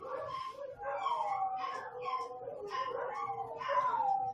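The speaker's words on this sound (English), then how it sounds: "Wow, Tim, is that your dogs?" Dogs howl in a room, long wavering mournful cries overlapping and rising, fairly close and continuous for several seconds without a break.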